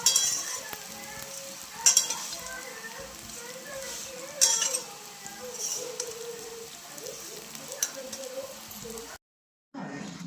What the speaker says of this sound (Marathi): आता पहिल्यांदा शेवळ्या भाजून घेते